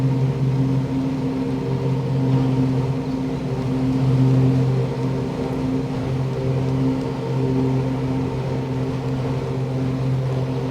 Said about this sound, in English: Again, the motor is very quiet, just smooth all around. There's no rattles, no vibrations.